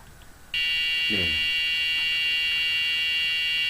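A steady, shrill electronic buzzer tone from an Arduino board switches on and holds continuously, with a brief murmur of voice beneath it.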